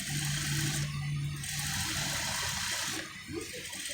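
A sewing machine top stitching a woman's trouser hums continuously with a fast mechanical stitching rattle, close and steady, easing slightly near the end.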